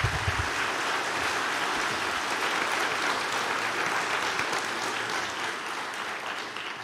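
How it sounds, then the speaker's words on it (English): Sustained, dense applause from a large audience at a faculty and staff convocation, a continuous wash of clapping at an even level throughout, with no voices standing out. "Let's show a round of applause or appreciation for them."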